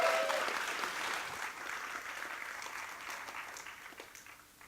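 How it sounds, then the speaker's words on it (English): A round of applause from a tech conference audience in London, moderately faint and steady, slowly fading toward the end. "So give it a round of applause"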